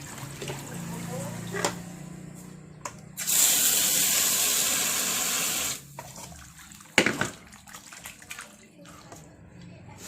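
Big-neck fish are washed in a basin, water running and splashing steadily for a few seconds, with intermittent handling clatter and rinsing sounds before and after.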